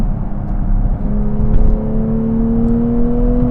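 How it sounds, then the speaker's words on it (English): Engine drone from a Nissan Z Nismo on the road, a steady low hum with a faint rise in pitch as it pulls, heard from inside the car and continuous throughout. "This car does sound nice."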